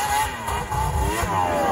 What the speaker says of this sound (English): we're gonna ride on the snowmobiles